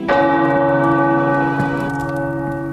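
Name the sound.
tower bells ringing in the video game Marvel's Midnight Suns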